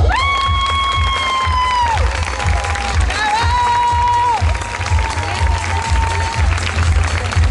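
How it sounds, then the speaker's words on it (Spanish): Loud concert crowd applause and cheering for a performer, a dense wash of clapping with shouts and whistles rising over it, while sustained amplified tones from the stage ring through. "Fuerte el aplauso para"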